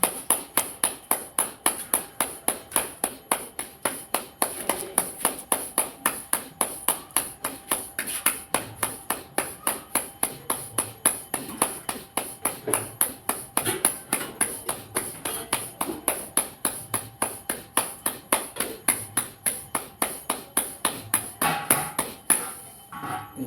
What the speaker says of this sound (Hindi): तालीस योग के साथ भस्त्रिका कीजिए।